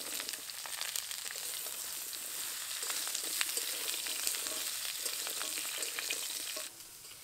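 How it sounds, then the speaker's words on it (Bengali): Cut stalks, potato and eggplant fry in hot oil with bay leaf, dried chili and five-spice, a steady bright sizzle crackling throughout with occasional scraping stirs, then quieting abruptly near the end. "সবগুলো একটু ভাজা ভাজা হওয়া পর্যন্ত নেড়ে নেব।"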